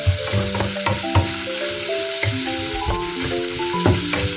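Garlic sizzles loudly in a hot frying pan for Filipino ginisang sotanghon, with a utensil scraping and stirring in a quick, repeated rhythm over the constant crackle of oil.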